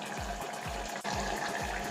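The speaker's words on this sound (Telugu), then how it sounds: "ఇందులో కొన్ని వాటర్ వేసుకొని" Water pours steadily into a cooking pot for country chicken curry, a continuous close splashing stream with no talk over it.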